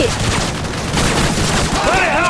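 Continuous gunfire and rumbling explosions from Call of Duty Modern Warfare 3 in a desert battle, dense and loud throughout, with a voice talking over the shooting.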